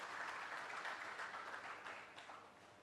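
An audience at an African agribusiness and banking conference claps for a speaker called to the stage, a fairly faint, even patter of applause that thins out toward the close.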